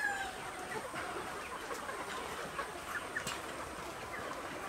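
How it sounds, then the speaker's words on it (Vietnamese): A flock of 90-day-old chickens in a coop clucks softly and continuously under a steady wash of barn noise, with scattered faint calls and no speech. "Đây là bầy gà 90 ngày."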